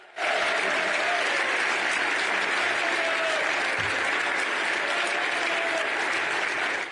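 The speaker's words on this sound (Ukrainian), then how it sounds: "Зустрічали його вже традиційними оваціями" A standing ovation for Zelensky in the European Parliament in Brussels, sustained, even and loud clapping from a large assembly that holds steady throughout, with faint crowd murmur underneath.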